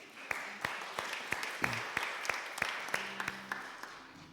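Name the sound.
congregation applauding volunteers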